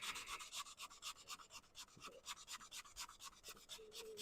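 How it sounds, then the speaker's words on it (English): Sanding a turned wood piece on a lathe after a light coat of CA glue, heard as a steady near rubbing rasp with rhythmic strokes, running alone without talk. "And back to sanding."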